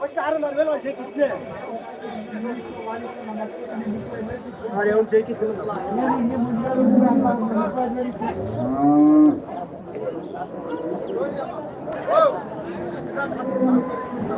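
Cattle and buffalo moo repeatedly at a busy village livestock market near Hosur, long low calls rising over constant crowd chatter and close talk.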